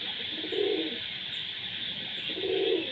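Pigeons on a home farm coo in two low, throaty bursts over a constant background hiss, fairly close and moderately loud. No one speaks.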